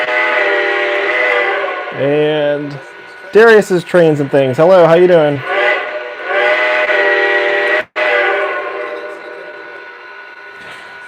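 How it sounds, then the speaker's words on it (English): A Lionel/MTH model train engine sounds its five-note whistle in several sustained chord-like blasts, broken by short choppy toots. Someone talks over and between the blasts. "This 5-whistle engine is cool for doing stuff like this."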